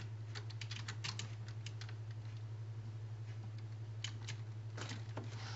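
Rapid clicks of a computer keyboard typed on while playing Psychonauts, coming in short uneven bursts with pauses, fairly quiet over a steady low electrical hum.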